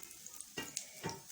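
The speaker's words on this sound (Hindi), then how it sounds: "तो देखें इस तरह से इनको फ्राई कर लेना है, बस इनको थोड़ा थोड़ा यूँ मूव करते जाना है।" Chicken potato rolls frying in hot oil, turned gently as they cook: a soft, steady sizzle with faint crackles and a couple of louder pops and stirring scrapes, close by and alone.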